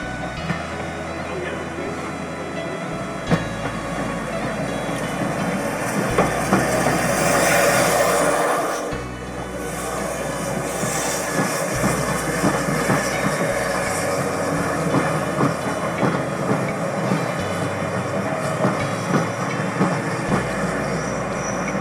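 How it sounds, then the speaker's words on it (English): A steam train pulling into Haworth station in Yorkshire rumbles past steadily with rolling wheel noise and faint squeals, a continuous loud mechanical roar lasting throughout. "the steam train pulling into Haworth in the Yorkshire Valley"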